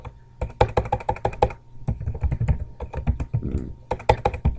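A computer keyboard clatters as an email signature is typed, with close, brisk bursts of key taps and short pauses between words, and no talking.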